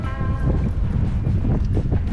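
Wind blows steadily outdoors beside a TLUD 1G Toucan wood-gas stove, a continuous low rumbling buffet against the microphone with fluctuating gusts and no talking.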